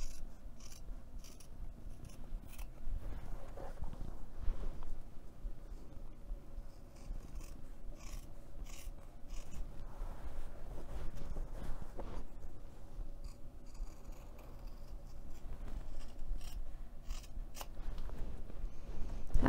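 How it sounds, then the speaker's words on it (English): Scissors snipping through several layers of fabric while making a storage bin, a series of soft, close crisp cuts repeating irregularly over a quiet background. "I'm just going to make a snip through all layers of fabric."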